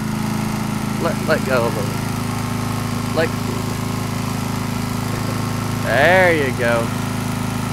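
Riding lawn mower engine running steadily close by, a constant low drone throughout while people talk briefly over it.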